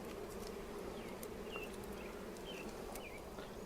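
Honeybees buzz around a beehive frame during a hive inspection: a dense, continuous hum of many bees close by, with individual bees zipping past now and then and no talking.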